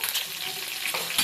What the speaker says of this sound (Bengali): কড়াইয়ে তেল গরম হয়ে গেছে, আমি একটা একটা করে সব ডিম ভেজে নিব